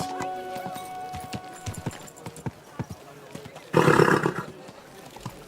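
In the video game Kingdom Come: Deliverance II, hooves clop intermittently amid background clatter, then a loud, brief neigh near the end.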